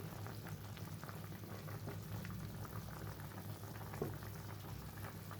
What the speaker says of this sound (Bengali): ঝোলটা খুব ভালো মতো ফুটে গেছে দেখুন মাছটাও সিদ্ধ হয়ে গেছে